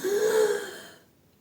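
A single deep inhalation during a breathing exercise, a close, airy breath drawn in strongly for about half a second and then trailing off into quiet.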